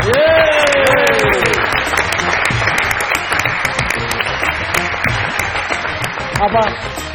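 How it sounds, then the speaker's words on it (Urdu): A studio audience on a Pakistani comedy talk show applauds to welcome a guest, a loud sustained wash of clapping that runs throughout, with a voice briefly speaking over it at the start and end. "ویلکم کہیے گا ان کو تالیوں کی گونج میں"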